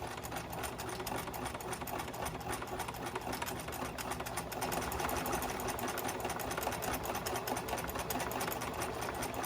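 A sewing machine runs steadily as it stitches a straight seam, a continuous close, even mechanical whir with a fast regular needle pulse that holds for the whole stretch without pause.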